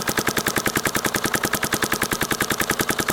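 Dye DSR+ paintball marker fitted with an Ion Pro Kit core firing a rapid, steady stream of sharp, evenly spaced shots for about three seconds, loud and close with no talking.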